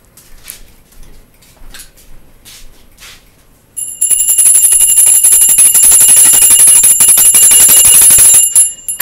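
A bell starts ringing after a few seconds of quiet tapping, then keeps up a loud, continuous, rapid metallic clatter for about five seconds before stopping abruptly.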